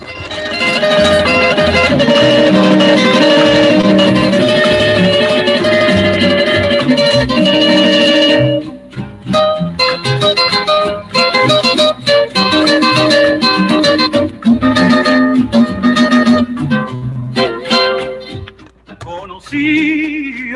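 A sustained, melodic passage gives way to plucked guitar notes with a gentle, lilting rhythm in a bolero recording from Caracas, like a romantic ballad.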